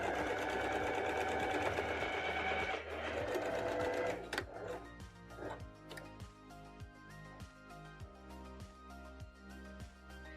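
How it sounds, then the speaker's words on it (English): Sewing machine stitching a pant cuff's inseam opening closed, a fast continuous whirring run at first, then short start-stop bursts of stitching with clicks between them, close and fairly quiet. "stitch the opening at the inseam closed"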